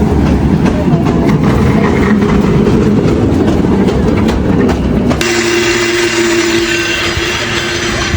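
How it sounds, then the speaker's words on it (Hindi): A constant low mechanical rumble and whir with clattering from a cable car cable running under a San Francisco street, steady and loud throughout, shifting to a smoother hum partway through. "इसके अंदर जो आवाज़ें आ रही हैं वो एक्चुअली केबल की आवाज़ है"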